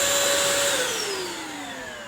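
A Bissell cordless wet-dry vacuum cleaner whirs with a steady high motor whine whose pitch slowly glides downward, close and loud, no talking.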